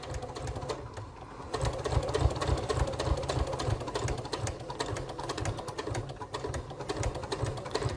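Sewing machine stitching slowly around a crossbody bag shoulder pad, reversing at the start: a close, steady rapid mechanical chatter with a low motor hum throughout, no talk.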